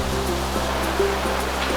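A clear river flowing straight out of the forest near a campsite in Mamasa, West Sulawesi, gives a steady, fairly loud rushing wash of water throughout, with no talk.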